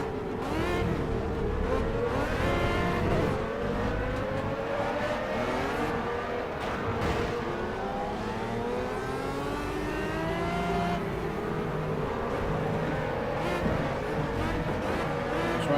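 Race cars in the video game Project Cars roar around the track in a dense, continuous pack, with overlapping engine whines rising and falling as cars accelerate and pass close by, plus occasional tire squeal.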